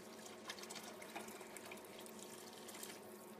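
Stock made from powder and a litre of boiling water is poured into a soup pot: a steady, continuous liquid pour with a splashy hiss that holds for a few seconds.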